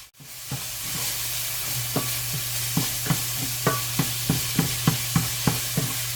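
Hamburger meat frying in a pan, a steady close sizzle and hiss with about a dozen evenly spaced stirring scrapes from a spoon against the pan, no talk.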